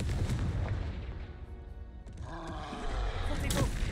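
A Confringo blasting spell cast in Hogwarts Legacy, heard as a dense roaring burst of game effects that swells again toward the end, with steady rumble and layered crackle throughout.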